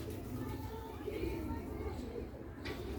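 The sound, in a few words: pigeon cooing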